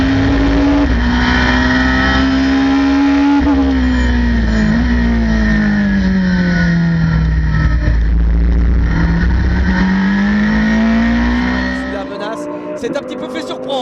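GT race cars, including a Ferrari 458 and a Porsche, roar loudly past with a sustained engine wail that rises and falls through the gears, then fades near the end while a commentator talks over it.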